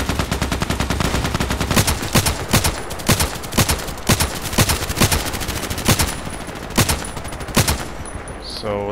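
Rapid bursts of KelTec RFB carbine fire in the Contract Wars shooter game, loud close shots in quick strings with short pauses between volleys, continuing for several seconds.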